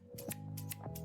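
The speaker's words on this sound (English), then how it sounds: "the first thing they wanted us to do was to trim the bush here" Crisp scissor snips trim leaves from a bush in the video game Schedule 1, three quick close clicks spaced evenly apart over a soft low hum.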